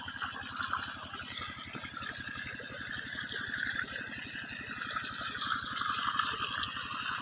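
Irrigation water flows steadily onto bitter gourd plants, a continuous close gush with a rapid mechanical pulsing underneath, like a pump running, and no talking.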